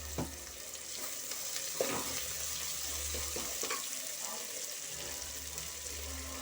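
Marinated chicken sizzling in a hot pan for chicken curry, a steady crackling hiss with occasional spoon scrapes and taps.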